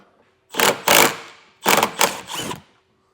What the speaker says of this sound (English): Now we have 3 8mm screws to remove.